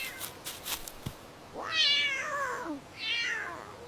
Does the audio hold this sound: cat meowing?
yes